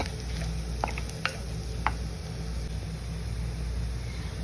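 Curry cooking in a pan being stirred for a minute to remove the raw smell, a low steady sizzle with a few sharp scraping clicks from the spoon, no talk.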